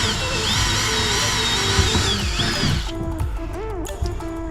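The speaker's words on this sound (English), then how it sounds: "we're done with this drill bit now" A power drill whines loudly and steadily while drilling holes to mount a security camera on a shed. The drill runs close up for about three seconds, then pulses in short bursts with no talking.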